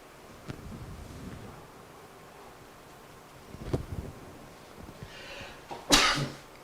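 A single sharp sneeze bursts out near the end, close and loud, after quiet rustling and a breathy sound in an otherwise calm room.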